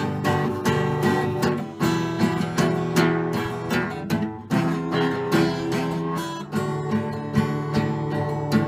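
Acoustic guitar strummed in a steady down-up pattern, the chords of a song ringing out loud and close, with no voice over it.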